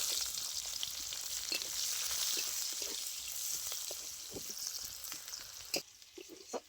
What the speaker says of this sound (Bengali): পেঁয়াজটা খুব ভালো করে লাল লাল করে ভেজে নিয়েছি।